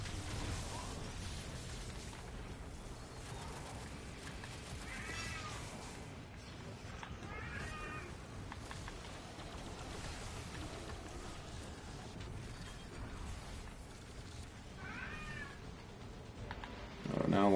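A cat meowing indoors, three or four short wavering meows spaced several seconds apart, faint under a steady background of game sound effects and noise.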